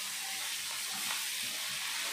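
Dried red chillies, dal and cucumber tempering in hot oil in a pan, a soft steady sizzle and frying hiss, close and continuous, fairly quiet with no talk.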